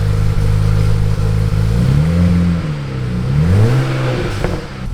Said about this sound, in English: Give it a baby rev.